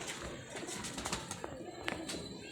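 Soft pigeon coos mingle with scattered bird calls against a steady hum of background noise, fairly faint and continuous throughout.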